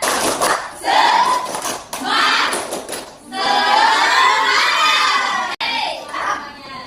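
Schoolchildren in a classroom shout a rhythmic 'tepuk semangat' spirit-clapping chant as an ice-breaker, loud bursts of young voices with clapping coming in repeated phrases and short pauses between them.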